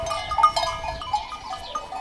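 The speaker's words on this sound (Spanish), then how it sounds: "estas cabras son tuyas" Goats in a fenced pen on a livestock farm, with scattered bleats and animal noises close by over a low rumbling background, no talk.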